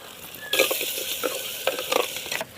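Cloves and crushed ginger-garlic drop into hot fat in a pot for mutton bone soup, setting off a sudden, close sizzle that crackles steadily with a few louder spits before cutting off.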